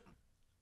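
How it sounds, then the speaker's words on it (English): A single short, sharp cough close to the microphone, following a faint trailing murmur and a moment of near silence. "excuse me for coughing in your ear."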